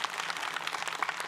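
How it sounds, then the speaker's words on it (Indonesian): Audience clapping at a majelis taklim religious study gathering in a TV studio: a short, fairly faint patter of many hands, steady and without voices. "Tepuk tangan dulu yuk"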